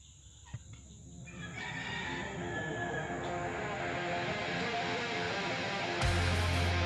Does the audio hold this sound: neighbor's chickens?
yes